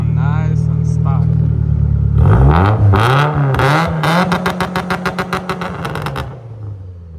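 A stock Mitsubishi Evo X revs loudly up close, its engine note rising and falling through several sweeps, then breaking into rapid pulsing bursts before cutting off.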